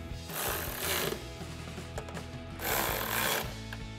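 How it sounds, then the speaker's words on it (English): A ratchet turning a 10mm socket to tighten hex bolts with lock washers on a RAM 1500 cold air intake install: rapid mechanical clicking in two louder bursts, close and alone. "And then we'll take our 10mm socket to tighten these two bolts down."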